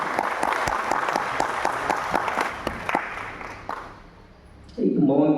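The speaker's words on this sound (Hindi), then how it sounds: "इसलिए तालियां बजा दीजिए।" Audience applause at a spiritual gathering in Mount Abu, with sharp dense clapping that fades out after about three seconds, a lull, then a voice speaking.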